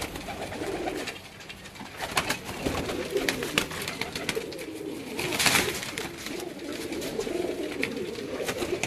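A Teddy pigeon from a Multan loft coos in repeated soft, throaty bursts up close, with rustling and shuffling around it and no speech.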